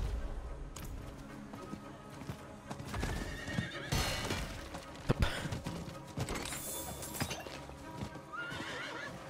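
A horse whinnies loudly over clip-clopping hooves and mechanical clatter, with a few sharp knocks in a busy Diablo IV game soundscape.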